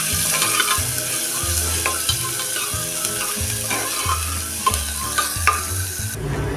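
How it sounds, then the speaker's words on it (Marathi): Finely chopped onion fries in hot oil with mustard and cumin seeds, a loud, continuous sizzle with repeated rhythmic scraping stirs of a spoon against the pan, no voices. "कांदा चांगला आपण हा लालसर होईपर्यंत परतून घेऊया।"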